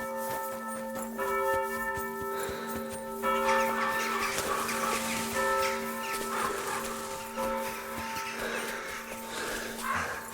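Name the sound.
church bell ringing in video game Kingdom Come: Deliverance II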